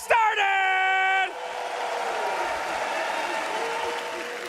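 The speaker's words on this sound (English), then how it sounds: "You'll get one more round of applause for all the teams as we get this day started!" A large esports crowd at The International Dota 2 main event breaks into applause and cheering after a brief bright electronic musical flourish, the clapping and whooping forming a sustained roar.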